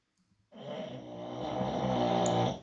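A dog snores close by: after a short quiet lead-in, one long, loud, rasping, rumbling breath with a growly texture swells and holds for about two seconds.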